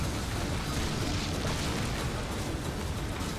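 Continuous dense rumble of explosions and booming blasts from the video game Darksiders, filling the whole stretch at steady loudness with no clear pauses.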